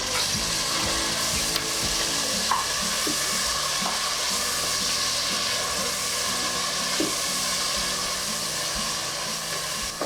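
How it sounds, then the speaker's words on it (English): Sliced green chilies, chopped tomatoes and spices fry in hot oil for mutton biryani, a loud, continuous sizzle close by with faint scrapes of stirring mixed in. "now fry all these ingredients nice and thoroughly till the tomatoes get"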